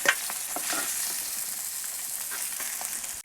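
Rui fish heads fry in hot oil, producing a dense, even sizzle with scattered crackles and spits, steady and close throughout with no voices.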